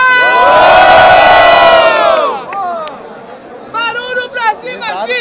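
A crowd roars and cheers loudly for about two seconds at a Brazilian freestyle rap battle semifinal (Batalha da Aldeia), then fades as an MC shouts to the audience.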